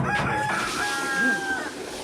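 A rooster lets out a single long, drawn-out crow, fairly close and clear against faint background noise.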